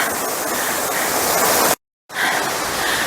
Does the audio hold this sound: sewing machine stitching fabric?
no